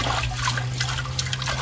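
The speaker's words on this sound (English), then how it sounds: "One piece, wash out the pot," Water trickles and splashes steadily while a pot is rinsed out, likely outdoors during Jamaican-style cooking, a continuous close pouring and dribbling sound with a low steady hum beneath.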